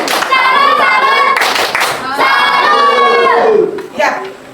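A classroom of students claps a rhythmic cheer for a classmate, with sharp bursts of clapping mixed with loud children's voices chanting in unison, close and lively.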